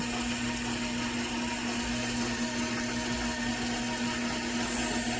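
An electric mixer whirs steadily as dry and wet ingredients, including vinegar, are combined into keto sourdough roll dough; the motor hum is continuous, loud and close for the whole stretch, with no talking.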